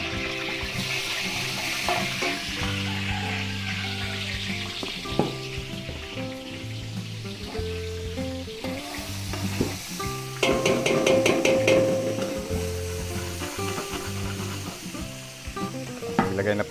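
Margarine and cooking oil sizzle loudly and continuously in a pan, a steady hissing crackle with background music playing throughout and a brief burst of stirring clatter partway through.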